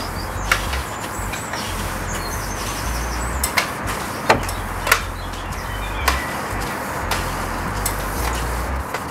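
A brush on a telescopic pole scrubs a conservatory with running water, a steady wet swishing broken by sharp knocks and taps, plus faint birdsong in the background.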